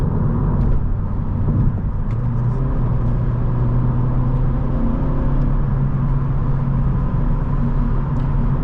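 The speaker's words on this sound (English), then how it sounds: "Road noise is a little more prevalent than in the Accords" Road noise inside a 2019 Honda Civic Sport with the 1.5T engine and a six-speed manual, at cruising speed. A constant, loud low rumble of tires and wind fills the cabin, with a faint engine hum underneath and no voices.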